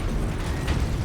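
A grenade blast in Warhammer 40,000 Space Marine, a loud, close rumbling explosion with a dense roaring body sustained over about a second, no clear speech.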